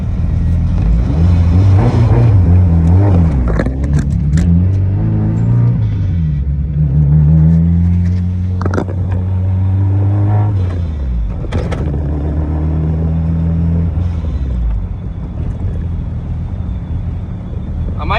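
A car on its first drive after a fuel leak was repaired, the engine rumbling loudly and rising and falling through acceleration and gear changes, with wind buffeting and a voice speaking at times.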